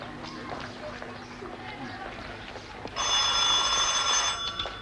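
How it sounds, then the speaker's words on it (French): A telephone rings with a steady bright electric trill that starts partway through and continues loudly over murmuring background voices. "Oui, le téléphone, c'est pour monsieur Ram Das Gupta"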